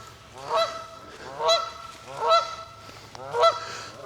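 Geese honk loudly in four separate bursts, about one per second, at a state park with campgrounds in Illinois, with no voices.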